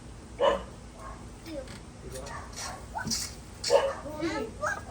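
Dogs bark and yip in short bursts amid people and children talking nearby.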